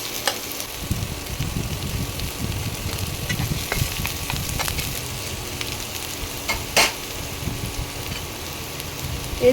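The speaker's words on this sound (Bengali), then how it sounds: "ওই জন্যে আগে পেঁয়াজটা ভেজে নিচ্ছি।" Chopped onions fry in hot oil for a chana murgh dish, making a continuous close crackling sizzle with scattered sharper pops and light stirring scrapes, no voices.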